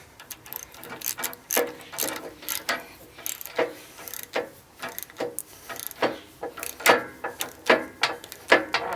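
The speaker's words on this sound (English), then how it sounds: "All I'm going to do now is tighten it up." A ratchet wrench tightens bolts on an Eterra sickle bar attachment for a skid steer loader, giving close, loud, rhythmic bursts of clicking that repeat steadily with no talk.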